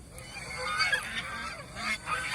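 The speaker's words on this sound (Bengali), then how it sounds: "এই যে আমার 2টা হাঁস দেখা যায়" Domestic geese kept as poultry on a farm give repeated nasal honks and cackles close by, overlapping calls running through the whole short stretch with no talk.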